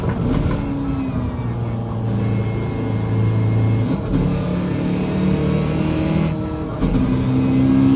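Race car engine droning through a lap in the Gran Turismo 7 video game, with sustained revving tones that shift pitch as gears change, loud and continuous.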